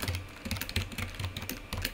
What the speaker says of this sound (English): you want to include the library by typing this in